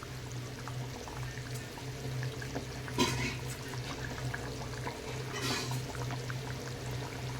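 Small pieces of chara pona fish go into a simmering kohlrabi and potato curry, with a steady low bubbling broken by two brief splashy bursts.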